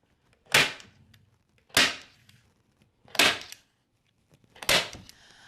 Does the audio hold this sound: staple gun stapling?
yes